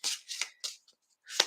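A deck of tarot cards is shuffled in a few brisk, crisp riffling bursts separated by short pauses, close and fairly clear.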